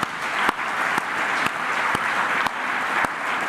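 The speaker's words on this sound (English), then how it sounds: "Round of applause." Audience applause at the 2023 Merv Cartwright Medal award ceremony for Isaah Yeo, steady mid-distance clapping with a few sharper accents, sustained throughout.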